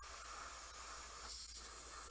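Spray paint hisses steadily onto an Adepta Sororitas Castigator miniature, a continuous airy spray held close with a slight dip midway, faint and without talk.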